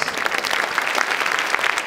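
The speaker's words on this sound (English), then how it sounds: "let me give some applause real quick" A crowd applauds a panel at a live stream event, brisk, even clapping from many hands, loud and close, with no voices over it.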